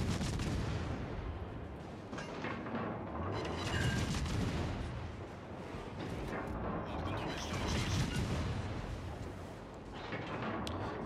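Naval guns firing in World of Warships on the Dutch battleship Tromp, a dense, continuous wash of booming shots and rumbling battle noise at steady loudness throughout, with no clear gaps between salvos.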